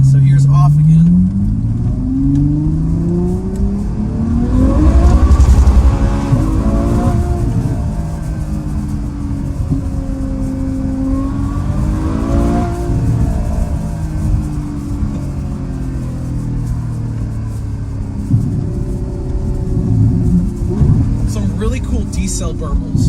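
A Ferrari F12 Berlinetta V12 with a Fi Valvetronic exhaust, valve off, rumbles loudly and steadily at idle nearby, with a couple of slow rising-and-falling engine swells over the continuous deep drone.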